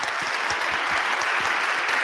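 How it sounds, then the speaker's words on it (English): An audience claps for the panelists at a civic event, a dense, steady round of applause that holds at even strength from start to finish. "can we give our panelists a round of applause?"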